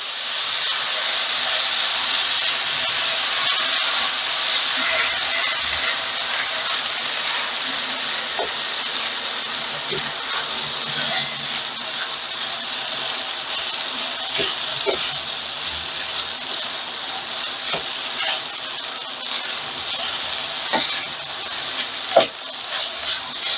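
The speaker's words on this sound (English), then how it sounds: "Love the sizzle." Fried rice with meat jun dipping sauce sizzles steadily in a hot pan, a continuous loud hiss and crackle with a few sharp pops and scraping stirs throughout, no talking.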